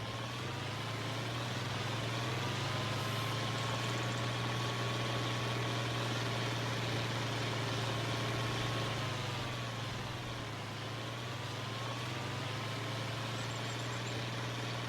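Tractor engine idling in Farming Simulator 25, a continuous low hum overlaid by a thin whining tone that wavers slightly midway, steady and alone for the whole stretch.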